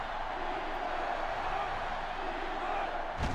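Stadium crowd noise from the video game NCAA Football 06, a steady loud roar of fans filling the whole stretch, with no commentary over it.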